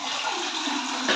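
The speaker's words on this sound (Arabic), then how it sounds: "هندوس على السيفون ضغطة واحدة بس، شوية مية صغيرين بس اللي نزلوا اهو" A toilet cistern flushes after one press of the flush button, releasing only a short gush of water that rushes steadily and close by, with no talk over it.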